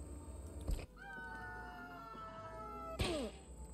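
A cat in the Postal 4 video game lets out a drawn-out meow, followed by a second, sharper descending yowl, over faint game background noise.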